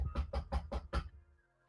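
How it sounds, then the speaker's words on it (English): Five evenly spaced knocks on a door, sharp and close, in a quick steady rhythm, then silence. "They knock on the door like any other day"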